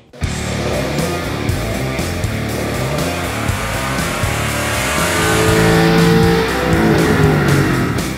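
A 2011 Mustang with a cold air intake makes a dyno pull on 93 octane pump gas, its engine roaring loud and close, building steadily in pitch as it revs up, then easing off at the end.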